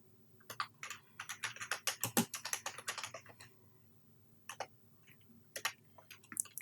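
Typing on a computer keyboard while entering a string value in an SQL tutorial: quick bursts of close, crisp key clicks with a pause in the middle before a few more scattered keystrokes.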